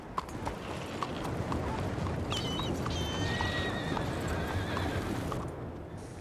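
In Red Dead Redemption 2, horse hooves clop steadily alongside a loud whinny at a stable, set against busy ambient background noise.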